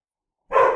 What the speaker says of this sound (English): the dogs are barking at something in the back